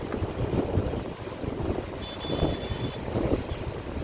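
The overflowing Tungabhadra River at Harihar: a steady, heavy rush of water roars continuously, broad and noisy, with wind buffeting the microphone.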